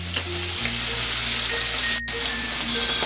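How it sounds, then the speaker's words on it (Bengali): Rui fish pieces frying in hot oil, a steady close sizzle with faint crackles running throughout, no voices. "এখন আমি 5 থেকে 7 মিনিট মাছটা ভেজে নেব।"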